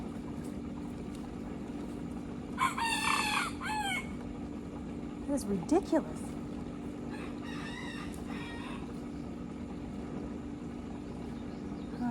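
Several small roosters crow in a row, a couple of raspy calls at moderate distance over a constant low motor hum, with a person speaking briefly in between.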